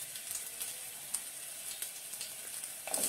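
Garlic fries for a broad bean masala curry, a soft continuous sizzle with small crackling pops, close and fairly quiet, with no one talking.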